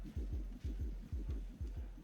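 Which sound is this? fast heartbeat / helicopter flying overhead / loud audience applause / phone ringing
fast heartbeat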